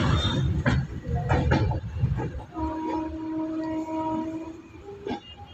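A train passes on rail tracks in a quiet rural stretch on the route to Sadulpur, Rajasthan, with rumbling wheels and a sustained tonal horn blast in the middle, loud and close.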